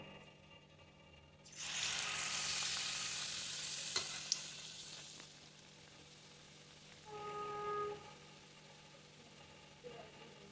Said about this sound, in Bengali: পিঠেগুলো এইভাবেই দেখো ভেজে নেবো